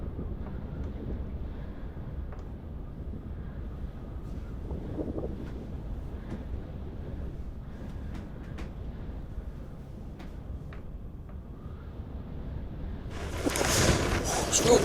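Cold wind blows across a hillside at a wild camping spot after sunset, giving a low continuous rumble that buffets the microphone and swells into a loud gust near the end.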